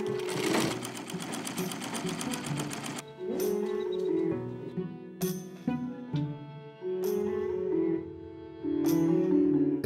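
A sewing machine stitching clothes for a family in a conservative Mennonite colony runs in a rapid mechanical chatter, then continues in loud start-stop bursts with a hum between runs, close and dominant.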